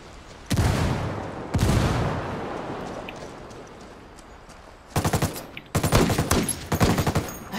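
Heavy gunfire in a first-person shooter game played as the sentinel class: two loud sustained bursts early, a lull, then rapid stuttering volleys near the end, all without talk.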